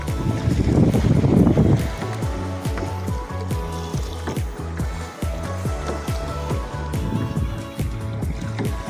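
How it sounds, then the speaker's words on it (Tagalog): Strong waves at Puka Beach, Boracay, surge and wash with steady rushing water and rhythmic knocking, loudest at the start and continuing throughout. "malakas yung alon, no?"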